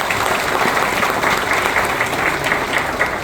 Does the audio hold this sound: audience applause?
yes